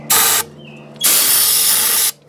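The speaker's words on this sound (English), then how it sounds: "Well, when a little bit of spray doesn't do it, give it more spray." Two bursts of aerosol starting fluid sprayed into an Ariens engine, a short hiss followed by a longer sustained blast about a second later, loud and close with no talking.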